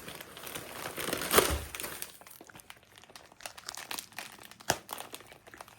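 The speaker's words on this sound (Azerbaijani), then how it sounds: "Hele öz hədiyəmi də açacağım." Gift wrapping is torn and crinkled open at close range, with a loud burst of paper crumpling early on, then quieter rustles and sharp crackles through the rest.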